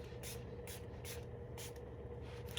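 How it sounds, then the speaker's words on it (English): Several short hissing bursts of a Milani Make It Last setting spray misting onto a face, spaced about half a second apart, over a steady low background hum. "So we're going to spritz our face really nice"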